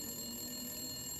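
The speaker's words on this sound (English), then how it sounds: "Nothing good ever comes from a single phone ringing in an empty office room." A single telephone ringing in an empty office inside a video game, a steady electronic ring holding at low level with no voices, all alone in a quiet room.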